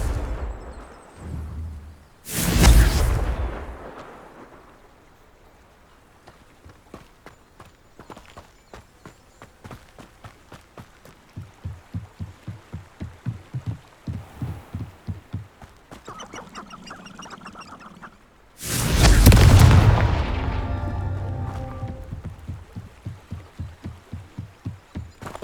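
Two heavy Confringo spell explosions in Hogwarts Legacy, loud booming blasts far apart, with quieter rhythmic footsteps and game sounds between them.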